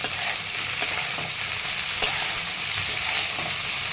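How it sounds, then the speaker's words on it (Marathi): Okra sautés with onion in a hot pan, giving a steady close sizzle that runs throughout with faint stirring touches and no talking. "कांद्यामध्ये ना भेंडी परतून घेते"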